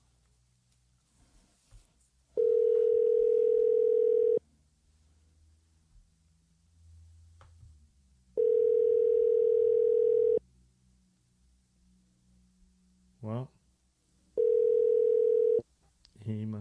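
A telephone ringback tone on an unanswered call, a steady electronic buzz that sounds three times in bursts of about two seconds with long silent gaps between them. A voice speaks briefly in one of the gaps.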